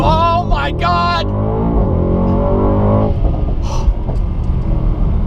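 A Mercedes-AMG E63S launches from a standstill in a 0-60 acceleration run, a loud, steady engine rumble that builds and holds from start to finish, with a person's voice partway through.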